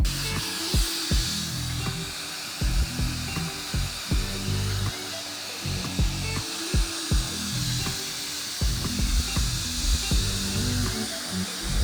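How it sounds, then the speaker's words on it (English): A Dyson Airwrap dupe hair dryer with its regular blow-dry attachment runs continuously over the roots, a steady loud whirring airflow broken by repeated brief knocking sounds. "I will go ahead and start with the regular blow dry attachment just to get my roots. Turn it on."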